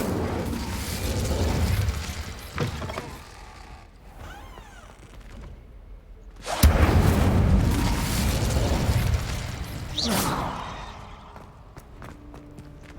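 Incendio fire spell cast in Hogwarts Legacy: booming whooshes of flame with creaking, mechanical game effects, a sudden loud burst midway followed by a sustained roaring rumble that fades, then another sharp flare.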